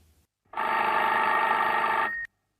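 A telephone rings in one continuous electronic burst of nearly two seconds, loud and close, with silence before and after.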